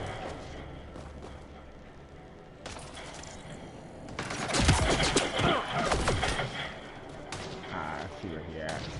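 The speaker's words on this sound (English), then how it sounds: "Start shooting." Gunfire crackles in a firefight in Mass Effect Andromeda, starting sparse and distant, then swelling into dense bursts of shots and heavy impacts, with someone talking over parts of the action.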